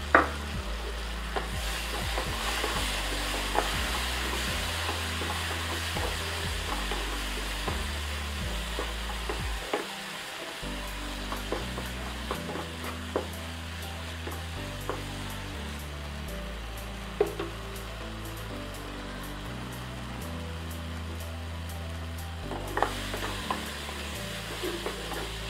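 Mustard paste cooks with softened tomatoes in a pan for a small fish curry, giving a constant gentle sizzle broken by repeated stirring scrapes and occasional clinks, with soft music underneath.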